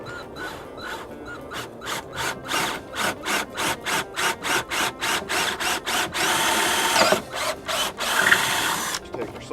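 A power drill bores through wood with a 1/2-inch bit while making a beehive candy board, giving a rapid series of loud rhythmic grinding bursts that then merge into a longer continuous rasping stretch near the end.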